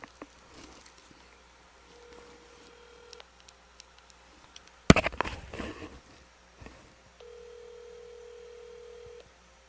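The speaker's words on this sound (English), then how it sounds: "Let me call Corey real quick" A phone dialing a call: scattered keypad taps and short tones, a loud burst of handling noise midway, then a steady ringing tone held alone near the end.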